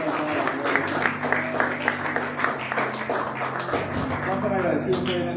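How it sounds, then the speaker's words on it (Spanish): Applause fills a church as the congregation claps loudly, an uneven crackle of many hands rising and falling, with a voice speaking over it and steady musical tones beneath. "Un aplauso más fuerte al Señor."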